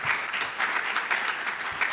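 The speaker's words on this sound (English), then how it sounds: "Let's give them a clap of" Brief, moderately loud applause from a panel discussion audience for students' presentation, a dense patter of clapping hands carrying steadily for a couple of seconds.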